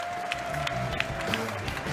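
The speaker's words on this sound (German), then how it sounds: "Ihr Applaus für Rasul Magam Shapiev." Crowd applause for an MMA fighter at a live event, a broad wash of clapping and crowd noise with scattered sharper claps, while a steady tone and background voices murmur underneath.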